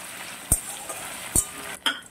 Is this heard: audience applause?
no